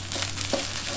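Shrimp for nasi goreng sizzles in a pan, a brief, soft, hissing fry with a faint stirring scrape.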